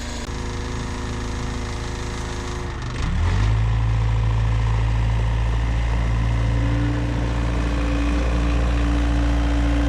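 A farm tractor hooked to an animal feed maker idles loudly and steadily, its engine note dropping and settling into a deep, even rumble after a few seconds, with no voices.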